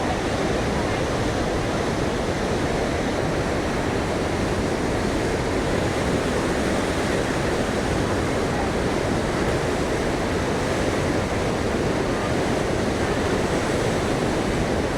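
Huka Falls on the Waikato River in New Zealand roars as a dense, steady wash of rushing water, loud and unbroken throughout, heard from a nearby viewing spot without talk.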